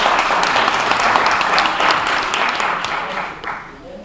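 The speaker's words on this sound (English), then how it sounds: "Let's give them a round of applause, guys" A room full of people breaks into a hearty round of applause, dense clapping holding steady for a few seconds before thinning out and fading near the end.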